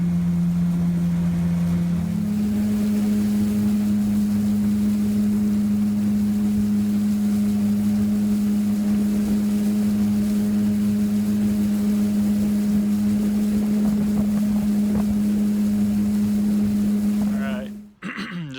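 A motorboat engine on a lake drones steadily at a constant low pitch with wind and water noise, ending in an abrupt clunk.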